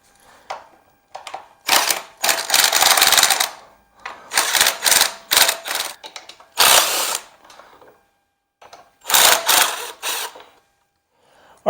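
A power tool spins out 10 mm bolts from a lawn mower gas tank on a Briggs & Stratton Intek 206 engine, in repeated short loud bursts with pauses between, close by.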